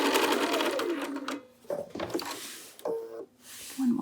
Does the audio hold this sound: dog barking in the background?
no